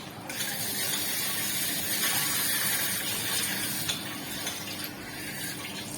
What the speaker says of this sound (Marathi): अगदी बारीक गॅसवर आपल्याला तेलात परतवायचे आहेत